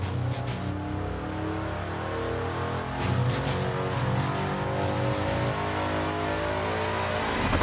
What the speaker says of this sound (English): putting it on the dyno, putting a load on that car to really see what we can get for a sound